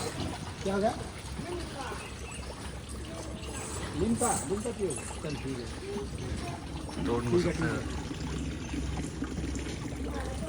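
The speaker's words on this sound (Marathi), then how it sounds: "सगळे घोडे पाणी पिया थांबतात." Horses stop to drink at a water point on a Trikuta mountain pilgrimage trail, giving soft pouring and trickling water sounds under near-constant talking voices.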